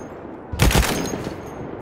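A short burst of rapid gunfire in the World War I shooter Battlefield 1 on a Sinai Desert map, loud and close, fading into a rumbling tail.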